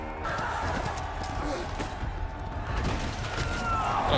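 A horse whinnies over the clatter of hooves, amid a busy, noisy background.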